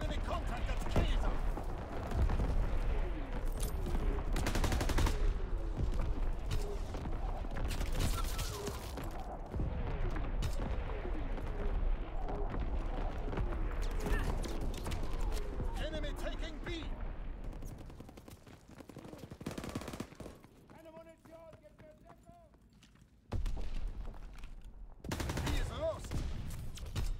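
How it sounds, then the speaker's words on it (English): Artillery and gunfire in the Call of Duty WWII V2 map, heard as dense rattling bursts and booming impacts. A radio-style voice speaks over parts of it, and the fire thins out near the end before a loud burst returns. "Incoming enemy artillery."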